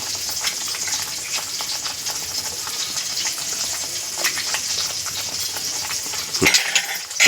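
Homemade red masala and turmeric fry in a pan for a surmai fish dish, a continuous close sizzle with scattered scrapes and clinks of stirring, and a sharper clatter near the end.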